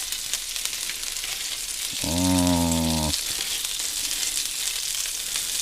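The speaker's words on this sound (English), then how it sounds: "let's just get some like sausage browning going on for a second" Raw sausage browning in a very hot pan, a steady close sizzle and crackle of frying running throughout, with a brief tonal hum cutting in partway through.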